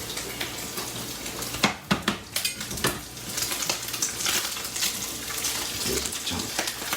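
Bacon fries in a pan with a bright continuous crackle and sizzle, broken by several louder spits and pops, heard up close.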